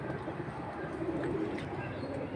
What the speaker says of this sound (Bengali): ফুল অ্যালুমিনিয়াম নিউ এয়ারটেল কবুতর